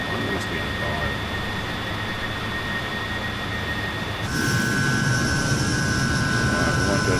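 A simulated aircraft engine in Microsoft Flight Simulator, on a flight along the Mozambique coastline, gives a steady, loud drone with a high whine that steps up in loudness and pitch partway through, with someone talking over it.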